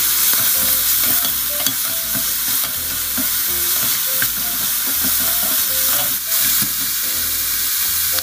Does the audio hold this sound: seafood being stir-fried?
yes